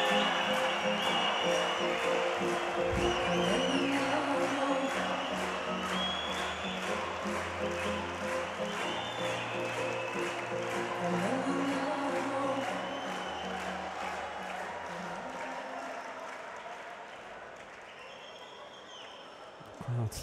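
A judo arena crowd at a Grand Slam final in Baku applauds and cheers steadily, a dense wash of clapping with scattered whoops that slowly fades as the crowd settles.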